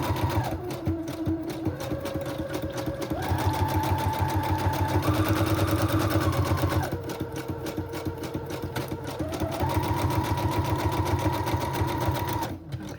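A sewing machine runs steadily around the edges of a fabric pocket made from old recipe cards, a continuous close whirring hum that shifts speed in steps without pausing.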